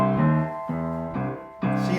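Boogie woogie piano left hand plays a syncopated rhythm, four chordal notes struck in an uneven pattern and each left to ring briefly, played alone at moderate volume.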